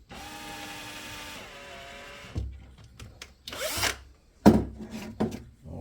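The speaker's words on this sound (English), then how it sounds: "All right, little pilot hole drill there." A power drill bores a pilot hole in a Led Zeppelin pinball machine during a shaker motor install. A steady, close whine runs for about two seconds, then stops, followed by clunks and handling knocks.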